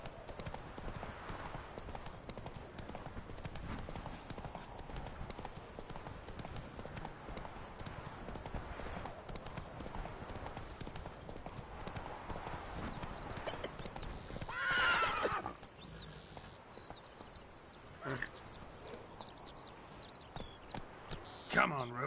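Roach, a horse in a video game, galloping with rhythmic clip-clopping hooves and a whinny, with game dialogue and voices talking over much of the run.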